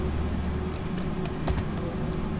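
Brief bout of typing on a computer keyboard, light quick key clicks with a firmer tap midway, close and clear over a steady low room hum.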